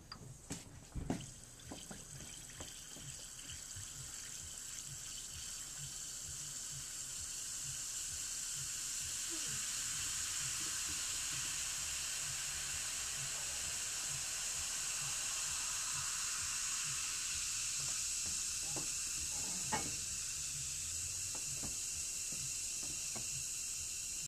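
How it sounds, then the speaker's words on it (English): Alka-Seltzer tablets fizzing in water, a steady bright hiss that swells after a few opening clicks and keeps going evenly, close and fairly quiet, with no talking. "Now we're putting Alka-Seltzer in water."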